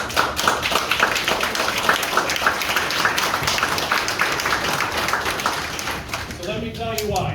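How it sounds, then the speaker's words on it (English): A crowd at a borough town hall meeting about police services bursts into applause, dense rapid clapping filling the room loudly and evenly before it thins out near the end, where a voice begins. "I want to give a round of applause for anybody that serves"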